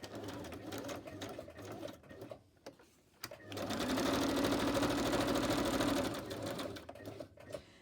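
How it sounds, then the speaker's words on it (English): A sewing machine stitches around a linen pocket, with short bursts of rapid needle chatter, a brief pause, then a longer steady run of close mechanical whirring. "I'm just going to come up and I'm just going to sew around the linen there, just so it stays down."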